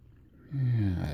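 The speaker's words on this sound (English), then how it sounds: "we'll go ahead and add our water" Water pours into a U.S. military MRE spaghetti with beef and sauce meal pouch, starting as a sudden close, steady gush and rising slightly in pitch as the pouch fills.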